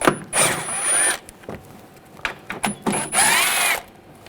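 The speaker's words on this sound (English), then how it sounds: "Up top, you're going to take these screws out, use a 8mm socket." A power tool with an 8mm socket takes screws out of the front inner fender liner on a 2007–2013 BMW 328i, giving two whirring bursts separated by a quieter stretch of small clicks and handling noises.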